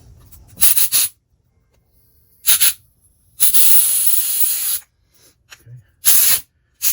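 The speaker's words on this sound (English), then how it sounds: "Put some compressed air in there one more time." Bursts of compressed air hiss into the carburetors of a 1986 85 hp Force outboard motor. There are several short blasts and one longer, loud spray, each separated by near silence.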